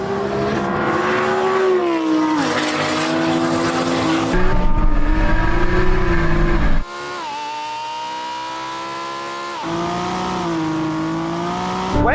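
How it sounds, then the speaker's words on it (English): A drag race car launches off the line with a loud engine roar, tire squeal and rising pitch through several gear changes, heard up close and steady for about twelve seconds with no talking. "That was an amazing launch by him."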